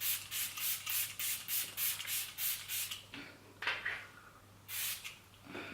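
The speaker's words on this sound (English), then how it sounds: "I'm gonna go with the Smashbox Photo Focus Primer Water, and I'm going to spray that on my face." Smashbox Photo Focus Primer Water sprays onto a face in a quick run of evenly spaced, hissing spritzes, followed by a few more scattered bursts, close and fairly soft, with no voices.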